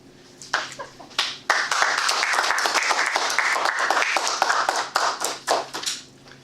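Toastmasters club members applaud in a meeting room, a steady round of close, crisp hand clapping lasting several seconds before tapering into a few scattered claps.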